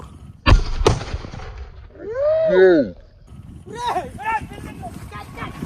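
Two sharp Diwali firecracker bombs go off in quick succession near the start, loud and close, followed by excited voices talking and shouting.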